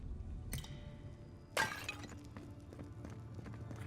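Pottery shatters in the video game Avowed: a first crack, then a louder, bright smash with tinkling fragments over a low background rumble.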